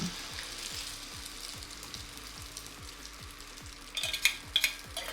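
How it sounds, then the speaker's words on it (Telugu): A spicy masala double-egg omelette fries in an oiled pan with a soft, steady sizzle and regular faint ticking. A few sharper clinks come near the end. "ఒక్కసారి ఆయిల్ అనేది మొత్తం ప్యాన్ మొత్తం వచ్చేటట్టు స్ప్రెడ్ చేసుకుని మన ఆమ్లెట్ అనేది వేసేద్దాం"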